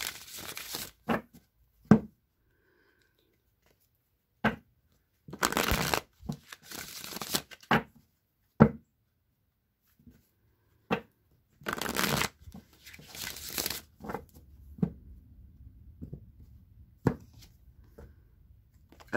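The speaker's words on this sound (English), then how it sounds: "I'm going to shuffle three times again" Tarot deck being shuffled by hand in several quick, crisp riffling bursts separated by near-silent pauses, close and clear, with a faint voice at moments.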